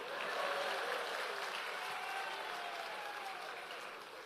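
Audience applause at an Easter thanksgiving seminar, a dense sustained clapping from a large crowd that holds steady and then gradually tapers off, with no speech over it.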